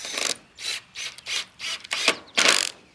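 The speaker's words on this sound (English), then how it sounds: "I'm just going to use a exterior screw and a washer to hold that on." An exterior screw with a washer is driven through metal eyelets into a wooden chicken tractor frame, giving a series of rough, grinding bursts with short gaps between them, close and fairly loud, with no talk.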